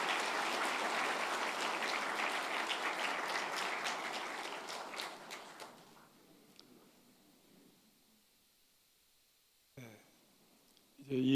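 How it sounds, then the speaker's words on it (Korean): Congregation in a church clapping loudly together at a pastor's installation thanksgiving service, a dense burst that fades out after about six seconds, leaving near silence with a few scattered claps. "우리 교우들 큰 박수로 축복해 주시면 감사하겠습니다"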